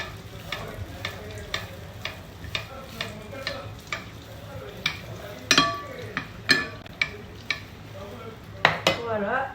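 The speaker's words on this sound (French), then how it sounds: "je jette bien mon huile pour les faire gonfler" Sfenj doughnuts frying in a pan as hot oil is spooned over them, with steady sizzling and repeated metallic clinks of the spoon against the pan, close up.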